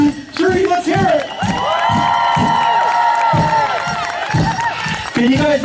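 A festival crowd at an Aboriginal culture event in Odawa cheers and whoops for dancers, a loud sustained roar of voices with scattered shouts and claps.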